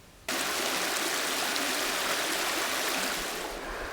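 A river rushes past in a steady broadband roar as a hiker crosses it on a long-distance trail, starting abruptly and staying loud and close.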